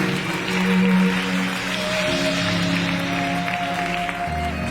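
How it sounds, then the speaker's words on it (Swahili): A worship congregation claps for Jesus in a continuous, steady wash of applause under sustained music, fairly loud throughout. "Ongeza makofi tena kwa Yesu."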